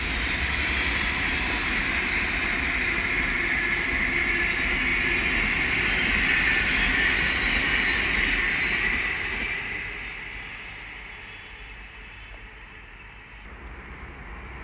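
Thameslink Class 700 electric train from Bedford to Three Bridges passing on the Midland Main Line at Elstow with a loud, steady broadband roar that fades away near the end, with no talk.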